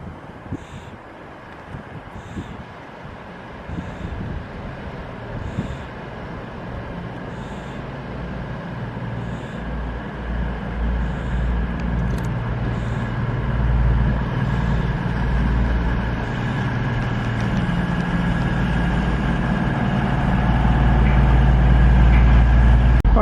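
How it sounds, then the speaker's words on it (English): Avanti West Coast Voyager, a 10-coach diesel train, pulls into platform 2 at a station near Rugeley, a low engine rumble and rolling noise swelling steadily louder and closer over the span, with some wind. "Got an Avanti Voyager 10 coach coming up now into"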